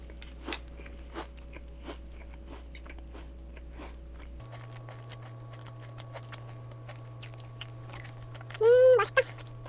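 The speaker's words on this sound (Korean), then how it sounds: "지금 먹을 간식은요, 두바이 쫀득 쿠키랑 두바이 소금빵입니다." Someone eating a Dubai chewy cookie and Dubai salt bread, with soft close bites and crunchy chewing over a low steady hum, then a brief louder rustle near the end.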